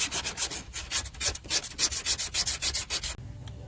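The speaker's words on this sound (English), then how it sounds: "you take a block with 80 grit sandpaper" Sanding block wrapped in 80 grit sandpaper rubbing body filler flat over a rust repair, a steady back-and-forth rasp of about two strokes per second, close and loud, stopping near the end.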